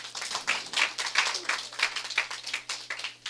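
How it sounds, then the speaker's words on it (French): A small church audience claps at a pastor's service, a quick, uneven patter of hands rising and falling in bursts, moderately close and fairly soft, with no talk over it. "on peut applaudir"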